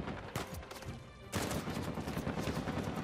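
Machine gun fire in Uncharted 4: A Thief's End, coming as rapid bursts of gunshots that break into a sustained, dense volley midway through, fairly quiet and distant, with no voices.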